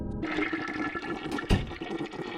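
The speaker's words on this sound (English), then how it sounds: "Sorry, it was a double flusher." A toilet flushes in the animated film Killer Bean Forever, a loud, close rush of swirling water with a sharp surge midway, continuing steadily to the end without speech.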